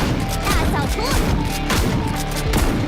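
Rapid gunshots from the Unreal 5 detective action RPG Silver Palace crack steadily throughout, mixed with dense game effects and music, while a voice talks over them.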